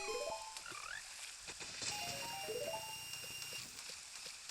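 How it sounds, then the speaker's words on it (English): Frogs in The Legend of Zelda: Ocarina of Time 3D sing the bonus song along with the ocarina, a string of bright stepped croaking notes rising and falling over a soft chiming backdrop, with no voices. "You'll notice that the frogs are actually singing the song at the same time."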